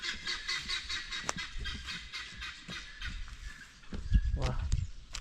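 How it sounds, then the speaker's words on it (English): Ducks quack repeatedly in an uneven series of honking calls, moderately close, with a voice and other outdoor sounds mixed in and a louder burst near the end. "Like it quack, quack, quack,"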